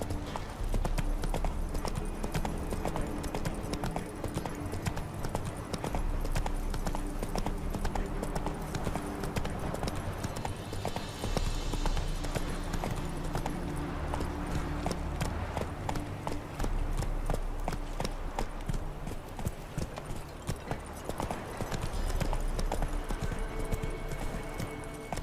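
Horse hooves clip-clopping at a steady galloping rhythm in The Witcher 3: Wild Hunt, loud and continuous throughout, with game music and ambience underneath.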